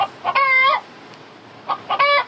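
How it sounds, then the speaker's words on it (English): A chicken clucks through a phone line in two loud squawking bursts separated by a short quiet gap, with a thin, telephone-like tone and no talk over it. "but this fucking chicken,"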